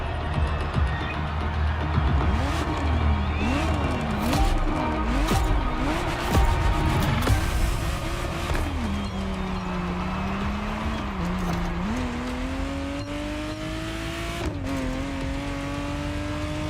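A Ferrari Testarossa driving in the video game The Crew Motorfest, its engine revving up and down in quick gear-change sweeps, then settling into a steady rising drone as it accelerates, with brief clatters, close and loud.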